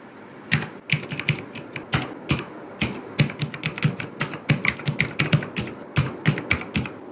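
A heading is typed on a computer keyboard: a fast, steady run of loud, close key clicks lasting several seconds with brief pauses between bursts, and no voice.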